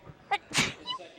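A commentator sneezes once, sharply and up close, during a 2011 high school boys basketball game between Williamstown and Ravenswood. The sneeze comes right after a few spoken words.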